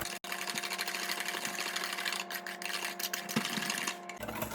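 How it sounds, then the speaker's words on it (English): Cookie batter for matcha cookies gets whisked in a bowl, giving a fast, continuous rattling and scraping that runs steadily throughout, close by with no talking. "I'm gonna go ahead and whisk everything."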